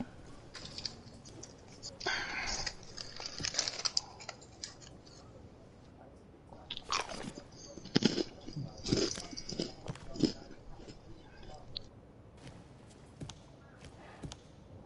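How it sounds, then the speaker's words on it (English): Close, crunchy munching and chewing of food in irregular bursts, loud and near the microphone, with a few quiet murmured words in between. "My bad, I'm munching."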